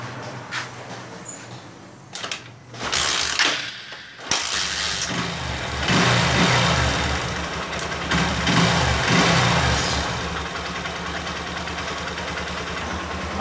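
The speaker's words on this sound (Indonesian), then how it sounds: "kita coba hidupkan dengan slot" A Honda Verza motorcycle with a weak battery and a dual-starter fault is cranked by its electric starter, whirring briefly before the engine catches and settles into a loud, steady idle with a few small rises in revs.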